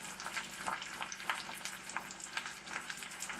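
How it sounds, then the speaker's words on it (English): Spinach sizzling and frying in a pan for an omelet, a steady crackling hiss with soft spits and pops, close and fairly quiet, no voices. "Now while the spinach is cooking"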